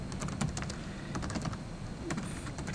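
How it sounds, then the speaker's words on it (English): Rapid clicking of keys on a computer keyboard as a command is typed, a steady close run of crisp keystrokes with a few slightly louder presses, no voices. "So we type select vdisk,"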